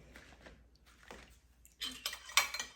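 A spoon stirs milk in a pot for homemade yogurt, making soft scrapes that give way to louder metallic clinks and scraping against the pot toward the end, close and with no talking.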